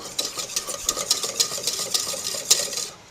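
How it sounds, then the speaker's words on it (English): Milk stirred into a thick, paste-like dough in a pan, giving a steady run of close, rhythmic scraping strokes of a spoon against the pan that fade away at the very end. "Pour that in there and make sure you stir so you get this nice thick dough."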